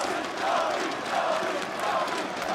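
A crowd at a CS:GO Major match, Heroic versus NAVI at PGL Major Antwerp 2022, roars in a sustained wash of cheering and shouting, loud and swelling in waves without a break.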